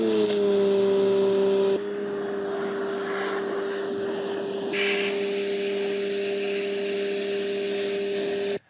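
YardForce electric pressure washer spraying, its motor humming loudly with a steady tone while the hiss of the spray shifts in strength partway through, then cutting off abruptly at the end.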